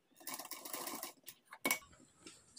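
A sewing machine stitches trouser fabric in a short, quiet burst of rapid running, then a brief clack and a few light handling sounds, close up with no talk.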